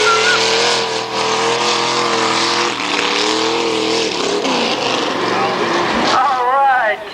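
The Mudslayer, a two-wheel drive vehicle, roars loudly through a mud run course with a sustained straining engine, while voices talk over it.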